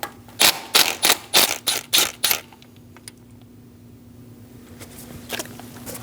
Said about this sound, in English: Using a 10mm socket, loosen and remove the bolt.